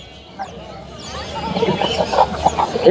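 Native chickens cluck and squawk amid a busy crowd at the Mirpur-1 poultry market in Dhaka, the noise building toward the end with voices mixed in.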